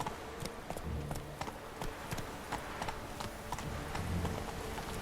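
Horse hooves clip-clopping in Witcher 3, a steady quick rhythm of hoof strikes at close range against a busy in-game ambient background, with no talk.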